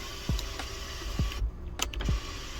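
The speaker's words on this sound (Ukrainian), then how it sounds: "Ще в даху в нас отакий є люк, він майже як панорамна, як панорамний дах. І ви бачите, що все працює" Electric sunroof motor on a 2018 Subaru Forester Limited 2.5, heard as several short whirring bursts with soft clicks and thuds as the panel stops, close by in a quiet cabin with no talking.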